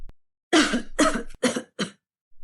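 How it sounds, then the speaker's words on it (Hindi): A man coughs four times in quick succession from a kitchen, harsh and close, with short pauses between each cough. "ये तो किसी आदमी की खांसने की आवाज है"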